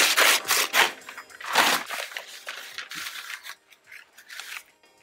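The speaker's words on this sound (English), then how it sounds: "Tearing the paper is a better way to strengthen the fibers together instead of a straight cut with scissors" Newspaper being torn by hand for a paper mache canvas: several loud, rough ripping bursts close by, each a second or less, fading into softer crinkling and rustling toward the end.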